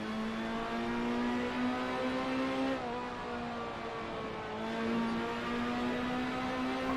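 A Ferrari P4/5 race car at speed on the Laguna Seca track, its engine a loud steady high-pitched drone heard close and continuous, with a brief dip in pitch as it shifts midway.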